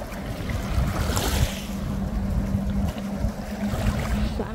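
Strong sea waves at night in cold, windy weather make a steady rushing wash with gusting wind, loud and unbroken, and nobody speaks.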